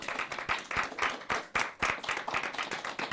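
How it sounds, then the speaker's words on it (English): Steady applause from a crowd at a game launch event, dense rapid clapping with uneven swells, continuing throughout at moderate volume. "So please, with a round of applause"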